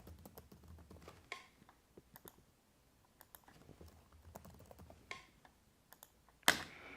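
A computer keyboard typing out a shared folder name, soft, sparse keystrokes in short uneven clusters, quiet and close, with a sharper burst of clicks near the end.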